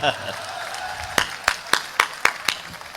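Audience at a kavi sammelan (poetry recital) at a Balaji fair in Kishangarh gives a few sharp, evenly spaced claps over a low murmur of crowd noise.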